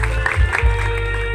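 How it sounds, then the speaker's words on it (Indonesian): Wedding reception guests clapping together in a decorated tent in a village, a brief, steady burst of applause mixed with low background music or hum. "mari kita beri tepuk tangan sekali lagi"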